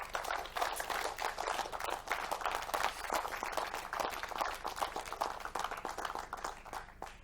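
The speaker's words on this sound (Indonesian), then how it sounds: "Tepuk tangan rekan-rekan sekalian." An audience applauds at a motivational talk with sustained, dense clapping from many hands that holds steady for several seconds without pause.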